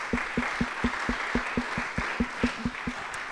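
A conference audience applauds the panel speakers at a chatbot and AI event. Distinct claps land in an even, rhythmic pattern, roughly four per second, over a faint background of scattered crowd clapping.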